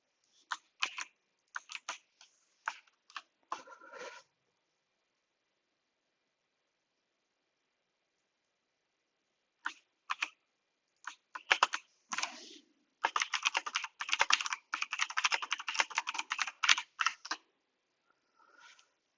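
Fingers type on a computer keyboard in quick, clattering bursts of keystrokes, with a long silent pause between an early flurry and a longer, faster run of typing near the end.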